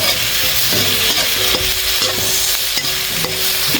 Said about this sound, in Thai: แล้วก็ทอดไปเรื่อย ๆขั้นตอนนี้ระวังคุณเชียงจะไหม้นะครับ